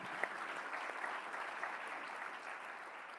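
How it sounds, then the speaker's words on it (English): An audience applauds the speaker's wife at a talk about fathers, a dense, steady patter of many hands that holds evenly for a few seconds with no voices over it. "you can give her a round of applause"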